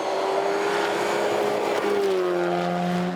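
A BMW rally car at Rally Latvia 2024 slides on gravel, its engine loud and raw as the revs hold, then drop and settle into a lower pitch, with a broad rushing noise throughout.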